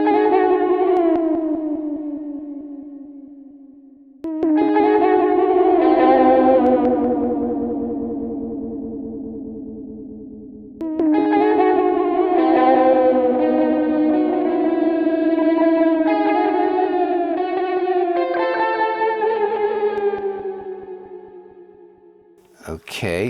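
A Lexicon PSP 42 v2 delay plugin applies a big pitch shift to sustained tones, producing swelling, warbling notes that bend and echo in long phrases, separated by a short gap and ending with a brief burst.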